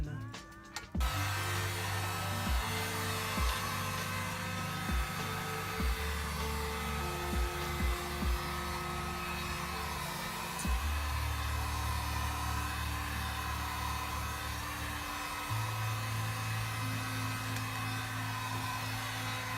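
A heat gun blows steadily on a car fender during fender rolling, a loud continuous whir with shifting humming tones running the whole time and no talking.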